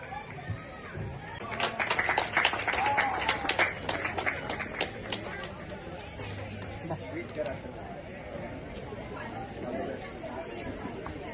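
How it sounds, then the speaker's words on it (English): Audience at a boxing competition clapping in a short burst that peaks early then fades into crowd chatter and a speaker's voice. "And a round of applause to sir."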